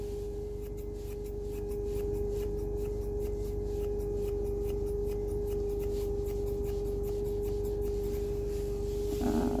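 Thinning scissors trimming the fine coat of a Yorkie, making a faint rhythmic run of soft snips over a constant electrical hum.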